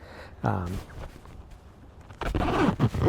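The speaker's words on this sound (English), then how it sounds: "Zip it up so you can see that" The zipper of a Carhartt Detroit J97 work jacket is drawn up with a quick rasping zip, followed by someone talking close by.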